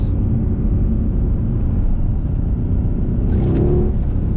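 A 2012 Mercedes-Benz C63 AMG W204 engine booms with a heavy, sustained low roar, heard loud and close; the note swells briefly near the end as the throttle is pressed again.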